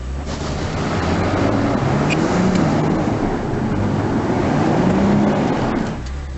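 A 2017 Jeep Cherokee Trailhawk on Nokian Hakkapeliitta winter tires spins its wheels in snow, a steady droning engine roar with rising and falling whine held at one loud level, then easing off at the end.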